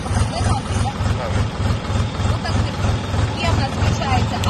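A DTZ 5244HPX tractor engine idles with a steady, rhythmic low chugging pulse that holds through the whole stretch, with faint voices in the background.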